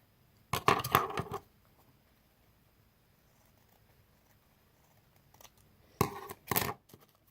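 Paper being cut with scissors for a craft: two separate bursts of short snipping and rustling, close and fairly quiet, with a near-silent pause between them.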